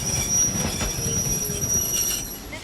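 A train in the anime 5 Centimeters per Second, delayed by snowfall, rolls along with steady rumbling and sustained high wheel squeal over the rails, loud and continuous throughout without any voices.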